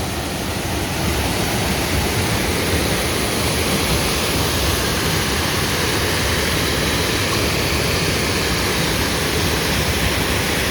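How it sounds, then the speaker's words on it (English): Twentymile Cascade, a modest waterfall with good volume on a creek in the Great Smoky Mountains, roars as a steady, loud, broadband rush that stays constant throughout with no talking. "So this is the first little waterfall on the creek."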